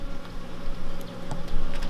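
Honey bees buzz steadily around a queen cell at an apiary, with a low continuous hum and faint clicks and rustles close by, and no talk.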